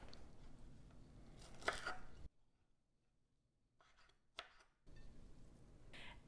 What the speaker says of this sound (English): let's cut up the dill